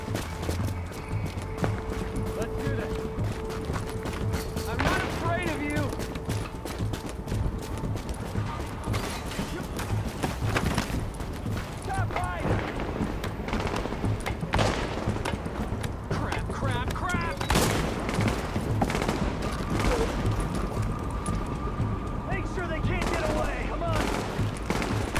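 Sustained shootout gunfire in Tom Clancy's The Division, dense overlapping shots and rattling bursts under constant battle noise, with shouted voices breaking through at times.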